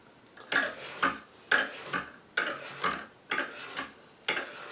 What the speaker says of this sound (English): Then you just keep working it until you get all the grind marks out from the stone before it.